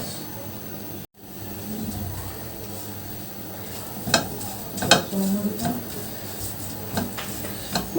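Flour is toasted in a pan for white sauce, giving a soft, steady sizzle close by, with a brief dropout early on and later scraping and clinks of stirring against the pan.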